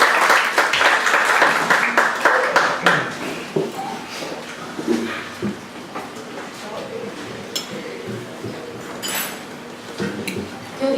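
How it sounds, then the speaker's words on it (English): Applause for a Republican primary candidate for trustee at an evening meeting: a burst of clapping that thins into scattered claps, with clinking dishes and cutlery and background voices in a dining-room setting. "Let's give her a big round of applause."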